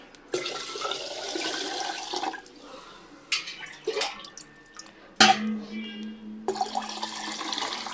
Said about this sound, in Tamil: ஸோ அந்த தண்ணியை நான் எடுத்து ஊற்றிடுறேன்.